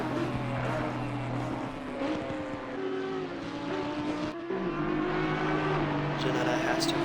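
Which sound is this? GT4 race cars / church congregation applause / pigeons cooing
GT4 race cars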